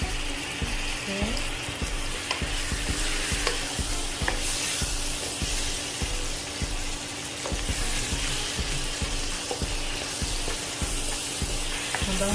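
Eggplant sizzles steadily in a hot pan for a pakbet with curry and shrimp, with repeated scraping knocks from the stirring spoon running throughout at close range.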